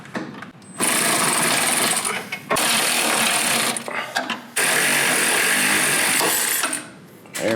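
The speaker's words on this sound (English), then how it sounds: "take the impact gun, constantly spin it, and then just pry it out with a flathead" Impact gun spinning continuously to free a suspension part, likely the alignment washer, on a Porsche 718 Cayman during a lowering-spring install: three loud sustained bursts of whirring and rattling, separated by short pauses, close up.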